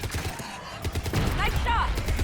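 Gunfire in the Mass Effect 3 video game, a dense burst of rapid shots and impacts over a loud battle scene with voices speaking over it.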